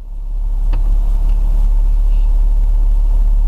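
Suzuki Grand Vitara 2.0 engine running on LPG idles in neutral with a steady low rumble that settles as the revs drop, close and continuous with no talk.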